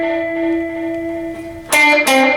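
An electric guitar played with effects sustains a ringing held note, then two bright, louder distorted bursts strike near the end, heard alone.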